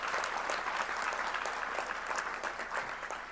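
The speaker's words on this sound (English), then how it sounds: "So a huge round of applause for Clément for absolutely turning the conference around" Audience applause at an annual general meeting conference, a full, continuous patter of many hands clapping at a fairly quiet level, tapering slightly toward the end.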